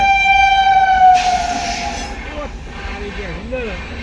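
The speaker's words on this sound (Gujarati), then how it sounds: "તો ગાઈસ ફાઇનલી ટ્રેન આવી ગઈ છે." A train at a level crossing blasts a loud, steady horn for about a second, then its rumble rolls past as people nearby begin talking.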